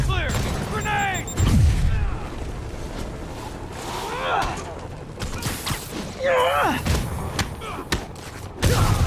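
A grenade goes off in Marvel's Spider-Man, a heavy thud and boom landing near the middle of a chaotic fight scene, with shouting voices, impacts and clatter around it.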